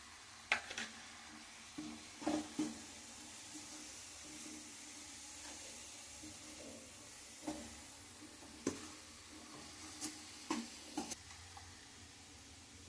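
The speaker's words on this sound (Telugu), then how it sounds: "బాగా కలుపుకుంటూ బాండీసి సపరేట్ అయ్యేదాకా ఉడికిద్దాం." Coconut burfi mixture of grated coconut, roasted gram powder and cardamom being stirred in a pan. Soft sizzling runs under repeated scraping strokes that come at an irregular rhythm, close up, with no talking.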